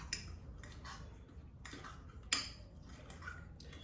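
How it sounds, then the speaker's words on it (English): A fork mixing vanilla mug cake batter inside a mug, quick irregular clinks and scrapes of metal against ceramic in short bursts, close and fairly quiet with no talking. "Good mix by this fork."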